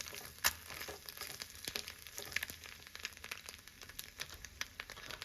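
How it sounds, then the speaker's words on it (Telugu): Beaten eggs fry in a hot pan and are stirred and broken into small bits, giving a faint steady sizzle broken by soft scraping and clicks of the spatula with no voices. "ఈ ఎగ్స్ని చిప్స్లా బ్రేక్ చేస్తూ కలుపుకుంటూ ఉండాలి"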